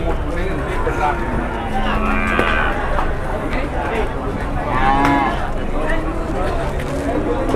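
Gering cattle moo loudly a few times amid a noisy, crowded outdoor market scene with background chatter and people talking nearby.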